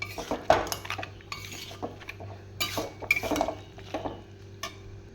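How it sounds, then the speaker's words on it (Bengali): A spoon stirs banana flower ghonto with fried lentil boras in a metal pan, giving irregular scraping and clinking taps against the pan over soft background noise, with no talking. "বড়াগুলোও দিয়ে দিলাম, দিয়ে এবার একটু নাড়িয়ে নেব"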